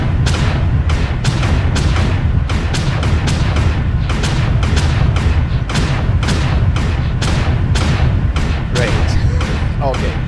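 An Ultra autocannon in MechWarrior Online chain-fires a steady rapid series of heavy booming shots, loud and close, with a voice speaking faintly underneath.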